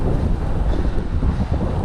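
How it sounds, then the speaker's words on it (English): Steady, heavy wind buffets the microphone, a dense low rumble with no pauses and no voices. "it's probably windy"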